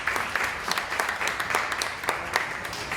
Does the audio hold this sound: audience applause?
yes